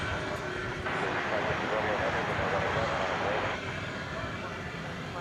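A plane takes off from DFW Airport bound for San Diego at night, its engines giving a broad, distant roar that swells for a few seconds and then eases, with talk running over it.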